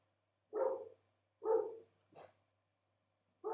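A neighbor's dog barks loudly and close by in two full barks followed by a shorter one, with another starting after a pause, alone with no talk.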